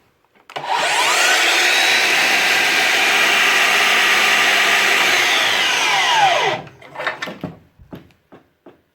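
A Makita DLS110 36V cordless 10-inch miter saw runs after a controller repair, with a loud whine that spins up, holds steady for about six seconds, then winds down into a few clicks and knocks.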